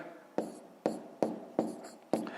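Pen or pencil writing numbers by hand on paper for column multiplication, five sharp taps and scratches at an even pace, close and fairly quiet, with no talk over them.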